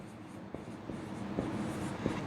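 Pen or marker scratching on a board or paper during a maths lesson on comparing quantities, with faint strokes and a few sharper taps over steady room noise.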